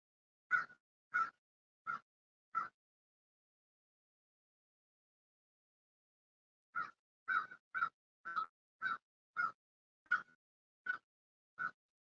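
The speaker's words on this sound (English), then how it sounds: "Got the beautiful birds out, the crows." Crows cawing outdoors, a group of four harsh caws, a pause, then a longer run of about ten evenly spaced caws, fairly close and clear with no talk.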